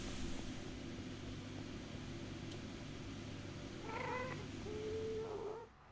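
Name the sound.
cat noises in Minecraft video game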